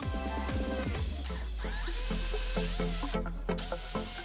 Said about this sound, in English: Obviously I'm drilling the holes to secure it into position now.